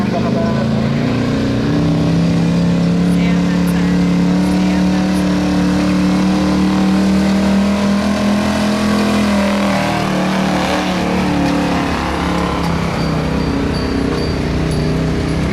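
A 1977 Ford F-250 truck at a harvest fest truck pull, its engine roaring loud and close with a steady, rising drone that holds for many seconds before easing slightly, and no voices over it.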